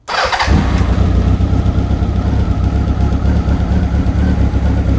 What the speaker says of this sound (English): Then we're gonna fire the bike up,